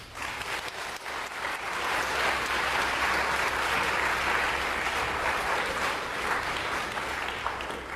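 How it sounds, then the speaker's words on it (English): Sustained audience applause for the winners of a game or contest, a dense steady wash of many hands clapping at close range throughout, with no talk over it. "Can we get a round of applause for our winners?"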